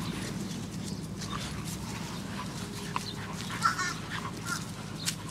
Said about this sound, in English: that bird keep on making all kind of noises